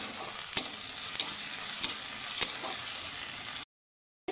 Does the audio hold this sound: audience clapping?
no